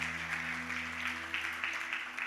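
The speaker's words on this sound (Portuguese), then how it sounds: "Você pode dar uma salva de palmas para o Senhor?" Audience applause at a church service, a dense, steady patter of many hands clapping, fairly distant and soft with a low hum underneath.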